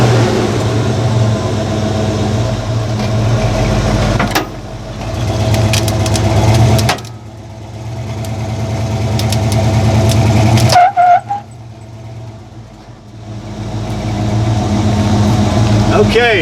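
A 4-wheel-drive vehicle's engine in low range revs hard and loud, its drone rising and cutting out abruptly before building again, with a brief squeal and voices present over the motor.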